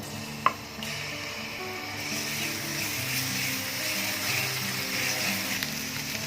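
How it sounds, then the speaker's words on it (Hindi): Ginger garlic paste fries in cooking oil in a pan, giving a continuous soft sizzle with stirring over a low background hum. A single sharp knock comes near the start. "उसमें थोड़ा सा कुकिंग ऑयल डालेंगे और सबसे पहले हम इसमें अदरक और लहसुन का जो पेस्ट है वो डाल देते हैं।"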